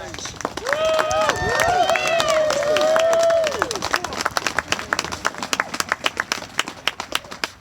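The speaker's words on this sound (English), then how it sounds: "Let's give one more round of applause for Ms. Christina Pizzi, please." Audience applause at a veterans' Freedom Memorial ceremony in Painesville, Ohio, starting amid a tonal whistle or cheer and settling into steady crowd clapping that thins into scattered individual claps toward the end.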